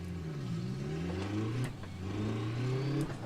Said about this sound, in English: Oh, that's a great engine sound.